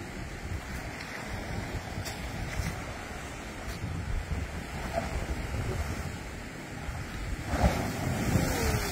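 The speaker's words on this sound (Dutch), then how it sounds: "Ik zie die golven gewoon aankomen." Sea waves roll in with a continuous surf roar under gusting wind noise on the microphone, swelling louder toward the end as a wave breaks nearby.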